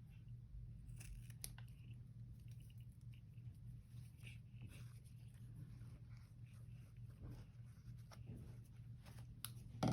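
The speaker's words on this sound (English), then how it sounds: "I don't know if I can get this to cut at an angle" Scissors cut paper at an angle for a music-themed journal cover, making faint, sparse snips over a quiet low background hum.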